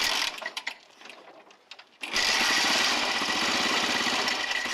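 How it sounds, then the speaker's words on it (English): A small Honda engine sputters and catches after a few cranking bursts, then settles into a loud, steady, buzzing run close by. "Okay, start the engine."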